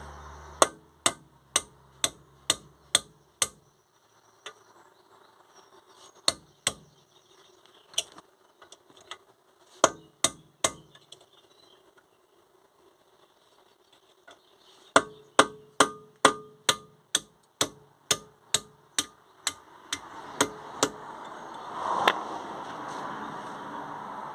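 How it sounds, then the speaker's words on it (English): Sharp metallic hammer strikes on the front brake pad pins of a Mercedes-Benz CL500 come in quick bursts of rapid taps with pauses between, close and loud, ending with some mechanical rustling. "That'll just make it a little bit easier to hammer them out"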